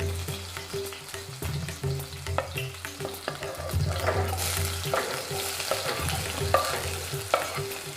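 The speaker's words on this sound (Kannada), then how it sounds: "ಆ ಮೆಣಸಿನ್ಕಾಯಿನ ಹಾಕ್ತೀನಿ ನನಗೆ ಸ್ವಲ್ಪ ಭಯ ಮೇಲೆ ಆಯಿಲ್ ಸಿಡಿರುತ್ತೆ ಅಂತ" Green chillies and onion frying in hot oil in a pan, a steady close sizzle with repeated stirring scrapes and clinks, the crackle growing louder partway through.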